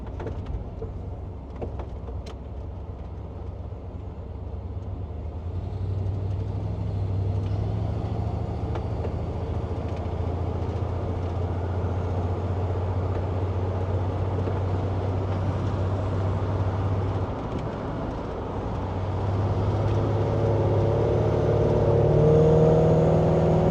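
A 1946 Chevy pickup truck cruising along the I-5 highway: a steady engine drone and road rumble that holds close and even throughout and swells slightly louder near the end, with no voices.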